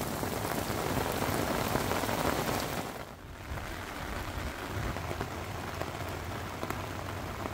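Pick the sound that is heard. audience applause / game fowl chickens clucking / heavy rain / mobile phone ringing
heavy rain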